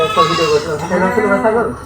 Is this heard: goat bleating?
yes